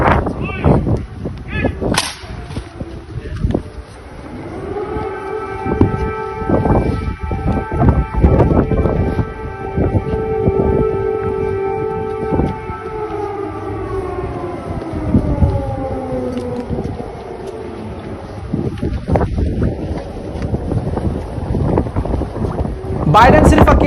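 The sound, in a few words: emergency siren wailing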